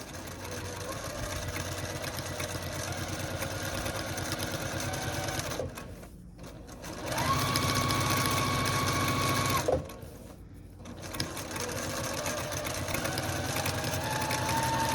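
A sewing machine runs steadily, stitching fabric for a reversible bowl cover, its motor humming with rapid needle rhythm and a brief pause before the stitching speeds back up.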